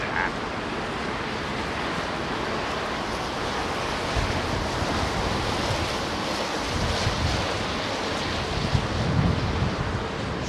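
Strong crosswind at London Heathrow Airport rushes and buffets against the microphone in a steady, loud roar with gusty swells later on, and no voices are heard.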